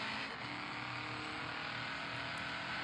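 A car in a mobile racing video game speeds along with a steady, continuous engine roar that holds at an even level throughout, with no talking over it.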